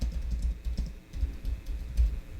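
Keys on a computer keyboard clatter in a quick, uneven run of soft taps, near and fairly quiet, with no talking over them.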